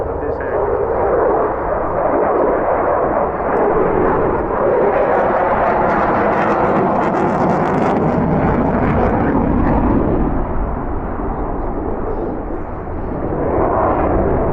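Aerobatic display aircraft flown by David Turbo at the Wales air show in Swansea, a loud continuous engine roar that swells and fades steadily throughout under outdoor crowd noise, with a commentator's voice carrying over it.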